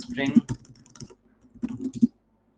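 Short bursts of computer keyboard typing, code being entered, sound in two clusters with a brief pause between them, while someone speaks over the keystrokes.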